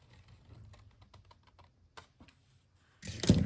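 Scissors cut paper for a junk journal craft: a handful of short, crisp snips spaced irregularly at close range, ending in a sudden louder burst of paper rustling.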